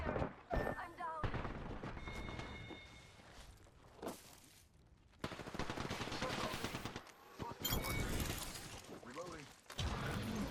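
Gunfire in the battle royale shooter Apex Legends, with bursts of automatic weapon fire and single shots alongside game sound effects and brief voice callouts, loud and dense over much of the stretch.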